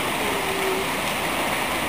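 Water sprays steadily at a sprayground, a dense, loud hiss of falling droplets, close and unbroken throughout.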